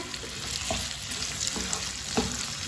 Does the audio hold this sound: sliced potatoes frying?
yes